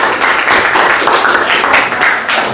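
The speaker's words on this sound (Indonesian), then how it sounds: "kasih tepuk tangan untuk kelompok 5" A classroom crowd applauding steadily after a group presentation, dense clapping filling the room at close range for a couple of seconds.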